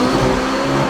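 A McLaren 570S engine accelerates hard through a tunnel, a loud, continuous roar that fills the whole short moment with no voices over it.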